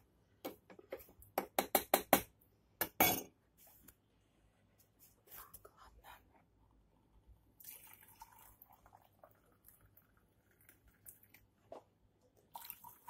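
Coffee being poured into a cup in a home kitchen gives a run of quiet drips and small splashes, followed later by a softer, longer liquid trickle in a calm room.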